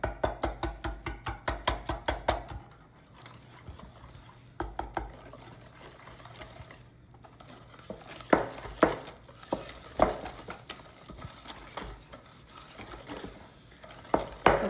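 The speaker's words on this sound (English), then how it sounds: "then just whisk this batter together" Rapid rhythmic clinking of a whisk beating Korean corn dog batter in a bowl, fast strokes at first, then looser, quieter stirring with scattered taps, close by.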